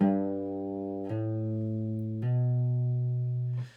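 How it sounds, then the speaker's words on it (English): Three clean guitar notes played slowly in succession, each new pitch sounding smoothly without a sharp pick attack, ringing out clearly with no talking. "If I go ahead and hammer on the 2 higher consecutive notes on each string"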